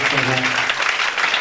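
A church congregation claps and cheers together in praise, a dense, lively burst of applause with voices mixed in.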